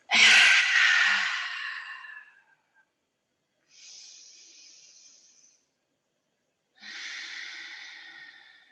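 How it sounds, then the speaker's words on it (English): Deep exhale through the nose during a vinyasa yoga session: a strong breathy rush at first, then two softer, airy nasal breaths after pauses, close up and with no talking. "take a big breath in through the nose. And exhale it out."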